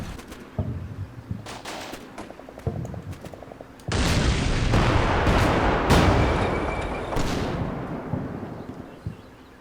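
Gunfire in the Combat Mission Black Sea war game cracks in short bursts and single shots, followed by a heavy, sustained roaring barrage with further booms and rattles fading out.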